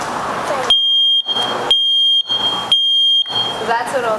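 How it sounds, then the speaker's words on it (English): A smoke detector sounds loud and close in a fire department demonstration, three long piercing electronic tones separated by short gaps, with a fourth starting as a voice talks over the end. "I think my smoke detector sounded better"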